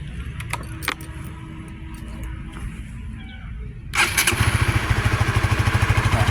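Keys jingle faintly, then a seven-year-old Suzuki GTR motorcycle engine cranks and catches, settling into a loud, rapid, steady putter close by.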